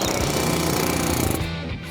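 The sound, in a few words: air hammer removing old coating from car body metal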